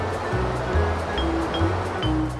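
Sea waves wash and surge continuously in a close, full roar of surf, with no voices present.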